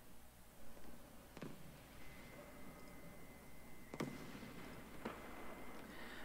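Flares deploying from a vehicle in War Thunder give a few sharp, bright pops with crackling tails over a low engine hum, spaced a few seconds apart, fairly faint.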